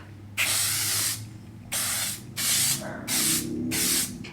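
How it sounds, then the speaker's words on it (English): Callista Embellish finishing hairspray is sprayed in five close bursts: a long first hiss, a pause, then four shorter sprays in quick succession. "Callista Embellish Finishing Spray."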